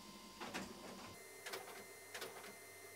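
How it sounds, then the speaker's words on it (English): A home studio printer runs in three separate bursts of mechanical whirring and clattering, each lasting about half a second, fairly quiet against a steady background hiss with no voices. "the printer just decided to do its thing"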